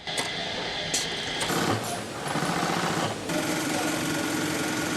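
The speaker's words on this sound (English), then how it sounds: "Hundreds of stitches must be made to sew a single Rolls-Royce logo into the leather. Fortunately, a machine can handle it." Sewing machine stitching a Rolls-Royce logo into leather, a rapid mechanical chatter that starts and stops in short bursts, close and loud without speech.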